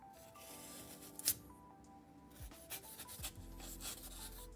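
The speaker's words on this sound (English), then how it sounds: "Can you guys hear the foam cutting?" A rasp cuts and shapes foam for a custom miniature base with dry, scratchy rubbing strokes, close and fairly quiet, in an uneven series of short scrapes.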